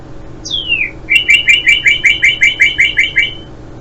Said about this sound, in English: That was the red cardinal bird.